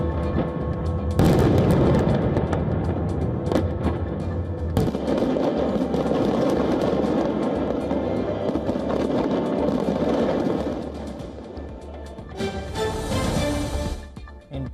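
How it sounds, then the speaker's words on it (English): New Year fireworks burst over the River Thames near the London Eye in London. Dense, continuous booms and crackles keep rolling without pause, with a loud burst early on and a crackling flurry near the end. "London welcomed the new year with an elaborate fireworks display over the River Thames and the famous London Eye"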